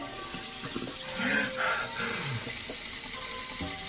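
Tap water runs steadily into a sink while a face mask is rinsed off, a close, even splashing stream with brief swells of louder gushing from hands in the flow.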